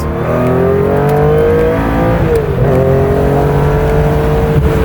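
A Porsche RSR Rebel engine revs loudly and up close, its sustained mechanical roar rising and falling in pitch with a brief dip midway before climbing again.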